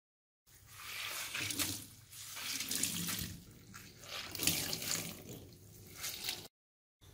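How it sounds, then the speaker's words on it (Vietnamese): Mushrooms in a mesh bag are squeezed hard so water runs out in a steady, close splashing trickle that swells and fades over several seconds before stopping. "Cho nắm vô một cái bao lưới để vắt cho thật là ráo nước."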